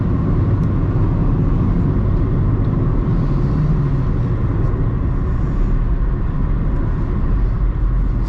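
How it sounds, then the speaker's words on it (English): Mazda MX3 cabin rumble as the car slows, a steady low road and engine drone with gentle shifts in pitch through downshifts and braking, continuous and fairly loud with no talking. "I'll downshift through the gears and get on the brakes"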